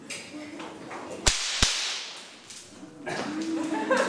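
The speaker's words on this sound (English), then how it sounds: "Alternating forward cracks sometimes results in a crowd going, ooh." Two sharp whip cracks snap in quick alternation, close and loud, each a crisp isolated crack less than half a second apart, followed by quieter room sound and a voice.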